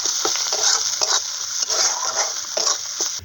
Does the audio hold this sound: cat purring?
no